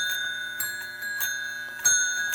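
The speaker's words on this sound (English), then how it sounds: "It still has that charming bell sound." A small bell on a prewar or postwar Lionel toy steam switcher's bell-ringer tender dings repeatedly in an irregular rhythm, bright and close, with a sustained metallic ring underneath each strike.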